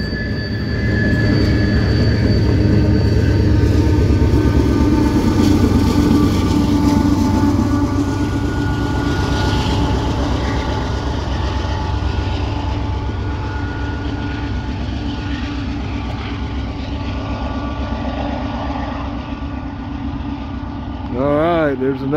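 A Norfolk Southern freight train heading northbound at Canal Ridge in Cincinnati rumbles past loud and close, with steady low roar, wheel clatter and rattling cars throughout, and a voice briefly heard over the noise.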